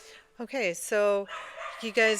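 Dogs in a gun dog kennel bark and yip sharply nearby, several loud pitched barks and whimpering yelps in a quick cluster, while a person starts talking over them.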